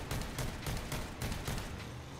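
Rapid rhythmic gunfire from a weapon in the vehicle combat game Crossout, a dense string of evenly spaced booming shots over a steady heavy rumble, without any speech.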